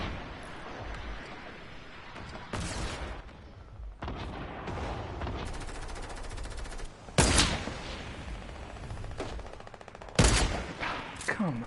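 Fortnite sniper shots and gunfire crack out in loud bursts over a constant background of in-game noise, with a few heavy blasts spaced several seconds apart.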